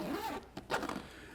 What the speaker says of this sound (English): We have nice YKK zippers here that you can see for both the quick access pocket and also the top flap right here.